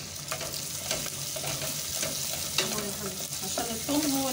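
Onion and garlic frying in a pan while being stirred, a steady close sizzle with repeated scraping strokes of the spoon and occasional louder clinks.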